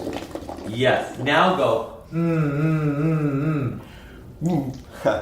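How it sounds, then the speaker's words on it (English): A person hums through a straw into water, sending air into it to make bubbles, and a steady buzzing hum bubbles for a couple of seconds between short bits of nearby talk. "you're going to hum into the straw, which means air is going to be coming through the straw and it's going to blow bubbles into the water"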